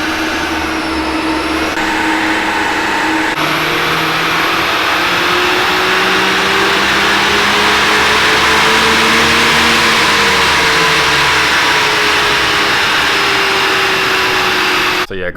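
Abarth 500 engine on a dyno run, loud and close, revving steadily upward through the gears with rising, sweeping engine tones and a brief drop between pulls, heard alone without talk.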